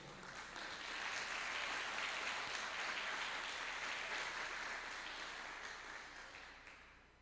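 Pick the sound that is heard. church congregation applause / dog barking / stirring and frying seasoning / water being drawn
church congregation applause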